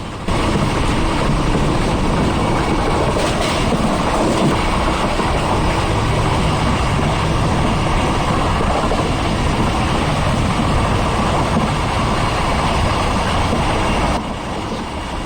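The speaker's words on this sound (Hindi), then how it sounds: "हमारी 16311 गाड़ी स्किप करिए महमदाबाद खेड़ा रोड को बहुत फास्ट स्पीड में" A diesel-hauled Indian passenger train rushes past at high speed, a loud, continuous roaring rumble with rattling wheels and wind noise that holds steady for the whole stretch before easing slightly at the end.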